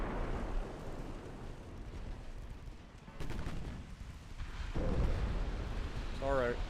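Torpedo strike exploding on a warship in Ultimate Admiral: Dreadnoughts, a heavy booming rumble with crackling bursts, swelling again toward the end, while someone talks over it.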